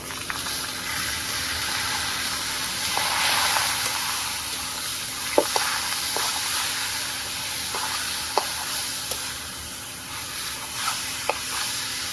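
Onions and radish greens fry in a pan with a steady, close sizzling hiss, broken by occasional sharp clicks of a utensil against the pan.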